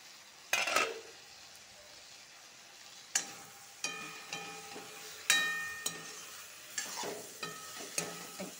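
Malabar spinach and potatoes frying in a pan, a low sizzle under a series of sharp metal spatula scrapes and clinks against the pan, irregular and close by.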